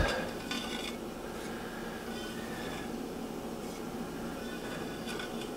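Homemade crab and shrimp ravioli slipping into a pot of boiling water on a kitchen stove: a steady, close bubbling roar with a few soft splashes and light metal clinks of pot and utensil, and no voices.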